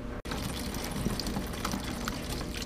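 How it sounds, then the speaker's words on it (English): Coolant drains from the water pump of a 2003–2004 Kawasaki ZX6R 636 motorcycle into a jug, a steady close-up stream of splashing liquid that runs unbroken except for one brief cut near the start. "you can see we're draining our fluid out now before I pull the other bolts off"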